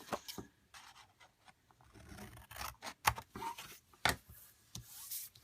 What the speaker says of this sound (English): And then I'm just going to cut my corners.